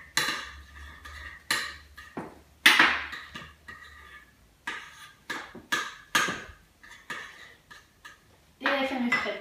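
A spoon or whisk clatters and scrapes against a bowl as chive cream is mixed, in repeated close, bright strokes with short pauses between them.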